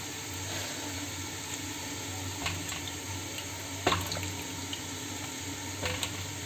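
Tap water running steadily into a sink while tomatoes are washed, a soft continuous hiss with a few faint knocks and clinks, no voices.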